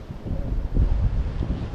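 Wind in a forest at Kakkadampoyil buffets the microphone in low, rumbling gusts, a brief blustery roar that swells near the middle.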